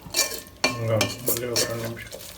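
A ladle scraping and clinking against a metal pot as tomato bath is stirred in a home kitchen, several close, uneven strokes with a faint sizzle underneath and no talking.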